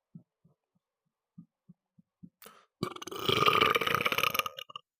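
A person lets out one long, loud, rumbling belch close to the microphone after a few soft gulping clicks, then falls quiet.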